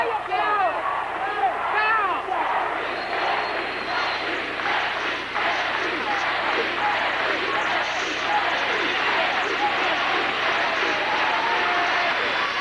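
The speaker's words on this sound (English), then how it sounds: "The crowd has repeatedly broken into chants here, Jesse, and run, Jesse, run" A large crowd at Jesse Jackson's 1984 presidential candidacy announcement chants rhythmically and cheers, loud and continuous throughout, with many voices blending into a repeating pulse.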